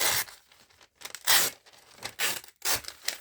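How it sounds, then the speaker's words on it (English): A piece of painter's masking paper is torn in several short, loud ripping strokes separated by brief pauses, close up and alone. "I happen to absolutely love that tearing paper sound"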